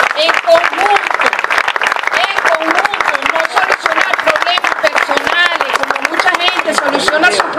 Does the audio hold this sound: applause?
yes